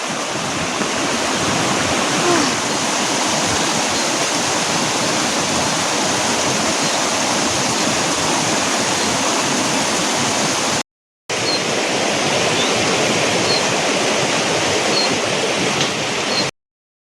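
A river beside a Himalayan village in Himachal rushes loudly and steadily, a dense close-up wash of flowing water with no voices, briefly cut by a short gap near the end.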